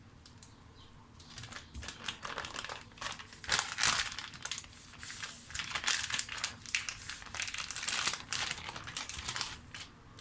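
Plastic bag crinkling and rustling in irregular bursts, close up, with sharp crackles that swell and fade as the bag is handled while rolling stuffed grape leaves.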